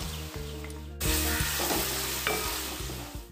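Garlic, white-skinned green chilies and curry leaves hit hot coconut oil for a Thrissur-style chicken curry, bursting into a loud, steady sizzle after a second of quiet, with a music bed underneath.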